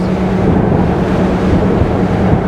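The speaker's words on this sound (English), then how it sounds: "Here we go, just going through some of these waves here." A RYCK 280 day boat, a German-built open motorboat, runs through waves at 25 knots, giving a loud continuous rush of engine, hull and water under heavy wind buffeting on the microphone, with no voices.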